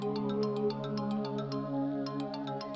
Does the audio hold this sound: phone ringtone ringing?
yes